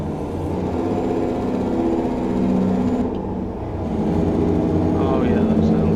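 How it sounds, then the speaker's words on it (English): A deep, steady truck engine drone from jake brakes in a tunnel in American Truck Simulator, with a rattling, pulsing growl, holds throughout, reverberant, loud and continuous. "Listen to these jake brakes in this tunnel."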